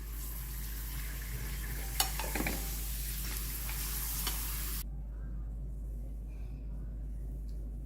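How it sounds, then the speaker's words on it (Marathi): Urad dal garlic-flavoured papad fries in hot oil with a steady crackling sizzle and a few sharp ticks, the sound cutting off abruptly partway through, leaving only a low hum. "चला आता तुम्हाला मी पापड तळून दाखवते"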